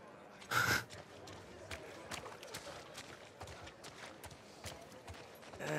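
A horse gives a sharp, loud snort at the start, followed by repeated hoof clops and shuffling at close range in The Last of Us Part II, with quiet ambience between steps.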